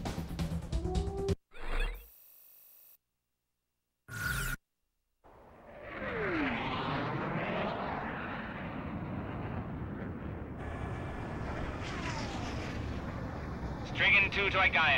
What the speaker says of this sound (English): Garuda team, time to take off.